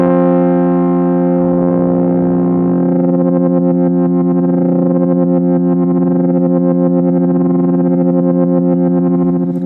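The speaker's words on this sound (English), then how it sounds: "It's almost like a granular sound." Synth patch on an Arturia Microfreak, a sustained buzzy, distorted harmonic tone with a rapid pulsing, grainy flutter, played alone.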